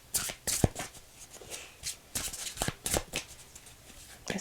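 Close, soft riffling and slapping as a deck of Path of Light oracle cards is shuffled by hand, in quick uneven bursts with no speech.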